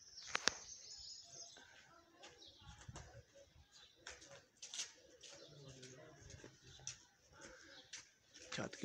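A pigeon lands and settles on a rooftop with a few sharp wing flaps and soft coos, set against wind and scattered background noise while someone talks intermittently nearby.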